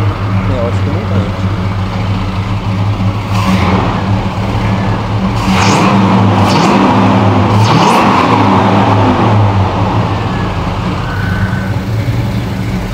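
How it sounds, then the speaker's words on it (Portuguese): An old car driving along a road, its engine droning steadily with low rumble and occasional revving swells, heard close and continuous with some background noise. "Andando com o carro, ele tá legal de andar."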